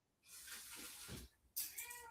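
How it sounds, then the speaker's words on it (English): A house cat meows in a couple of drawn-out calls, close and fairly loud, with a brief watery splash or tap sound between them. "Gotta love random cat meows."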